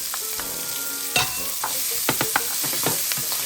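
A spoon scrapes and clatters in a pan as small tomatoes are stirred into browned meat, with a steady sizzle of frying underneath and occasional sharp knocks against the pan.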